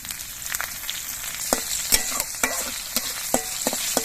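Black cumin seeds and four slit green chillies fry in hot oil with a steady sizzle, punctuated by sharp clicks and scrapes of a spoon stirring in the pan.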